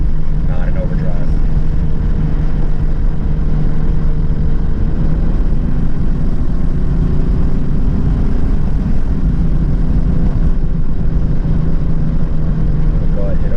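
A 1994 Mercedes S350 diesel with a new turbo cruising in overdrive, a loud steady engine and road drone with the turbo spooling underneath, and someone talking over it.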